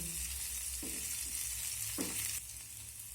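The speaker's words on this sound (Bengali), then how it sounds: "সব কিছু আমি মিনিট খানেক নেড়ে চেড়ে ভেজে নেব" Chopped chilli, ginger and garlic stir-fry in a pan with a soft, steady sizzle, broken by a few short scraping stirs of the spatula; close and fairly quiet, with no talk.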